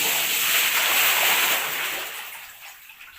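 Water drains out of an aquarium with a rushing, hissy gush that is strongest at first, then thins and fades toward the end.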